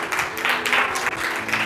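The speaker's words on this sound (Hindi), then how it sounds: "ये दीदी के लिए तालियां बजाओ" A church congregation claps for a woman, a loud, slightly uneven applause with clear individual hand claps in pulses, and faint talk underneath.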